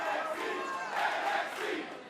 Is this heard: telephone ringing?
no